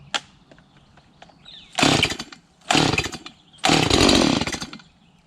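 A STIHL MS170 chainsaw is pull-started, with a few faint clicks followed by three loud bursts of rough engine sputter as it tries to catch, each separated by a brief pause.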